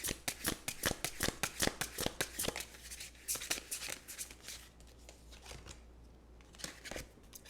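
Oracle cards are shuffled close up in a quick run of crisp riffling flutters and slaps that come in bursts and then slow toward the end.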